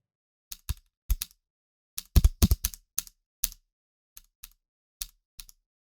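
Keys clacking on a computer keyboard in irregular bursts, with a quick flurry in the middle and sparse isolated strokes, one of them an Enter press, close and fairly quiet with no talking.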